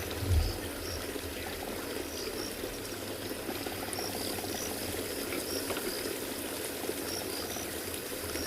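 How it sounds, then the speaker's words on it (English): Running water pours and trickles steadily outdoors on an afternoon safari in South Africa, a continuous stream with faint insect and frog calls in the background. "I believe you guys can only hear the running water"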